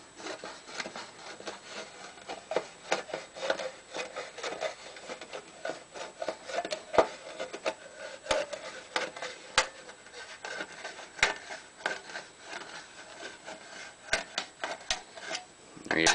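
An old-school tin can opener levering its blade around the rim of a can gives a repeated scraping, crunching rasp with sharp clicks at uneven intervals, close up, while a person talks at times.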